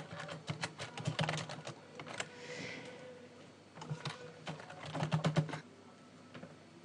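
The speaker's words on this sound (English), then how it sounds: "We'll type in our heading." A heading is typed on a computer keyboard in quick clustered bursts of close, crisp key taps separated by short pauses, fairly quiet, with no talk.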